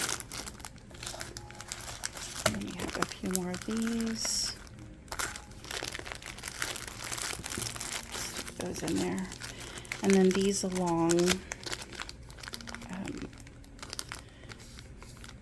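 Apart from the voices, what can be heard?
crinkling packing paper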